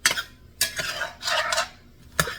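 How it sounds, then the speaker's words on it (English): A roux with onions being stirred in a pot for crawfish stew: a few close, scraping strokes of a spoon against the pot, separated by brief pauses, with no talking. "stir it all good like"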